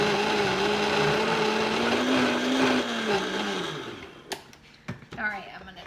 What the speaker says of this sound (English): Get this Vitamix going.